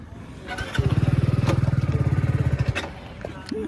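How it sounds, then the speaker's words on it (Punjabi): A motorcycle engine cranks and catches, chugging in a rapid, rhythmic putter for a couple of seconds before cutting off. "ਚੱਲ ਬੁੱਗਿਆ ਤੋਰ ਮੋਟਰਸਾਈਕਲ ਲਿਆ ਮੇਰੇ ਕੇਲੇ"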